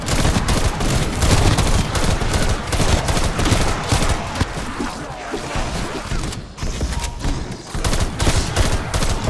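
Nearly continuous rapid gunfire in Call of Duty Zombies, loud overlapping shots and bursts crowding the whole stretch with only a brief dip partway through.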